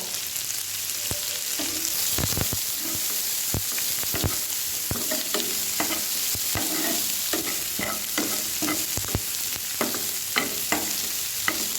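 Green chillies and curry leaves for chilli chicken sauté in hot oil, with a continuous close sizzle broken by repeated sharp clicks and scrapes of a spoon stirring against the pan.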